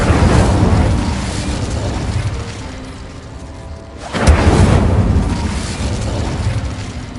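An Incendio fire spell in Hogwarts Legacy goes off as a loud, full whooshing blast, then a second burst follows after a short lull, with no talk.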